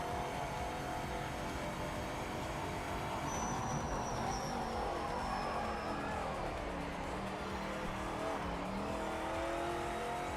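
Race car in Project Motor Racing, with a steady engine drone and a continuous rush of tyre noise throughout, with a brief squeal midway and no talk.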